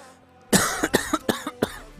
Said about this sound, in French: Putain j'arrête pas de tousser